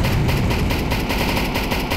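An M2 heavy machine gun fires in Counter-Strike 2 as a loud, dense, rapid burst of booming shots, continuous for two seconds at close range.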